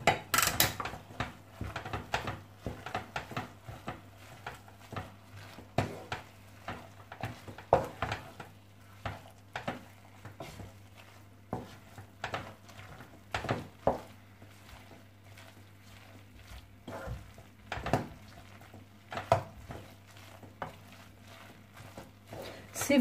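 A spoon stirs an egg, fries and salt-cod mixture for Portuguese bacalhau à brás in a dish, with scattered scrapes and clinks against the dish, some sharp and close, spread over a quiet background with a low steady hum.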